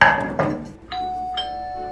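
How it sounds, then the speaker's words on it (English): A two-tone doorbell chime rings out, the second note ringing on, following a brief burst of talking and clatter at a family Thanksgiving dinner at the start. "Was that the doorbell?"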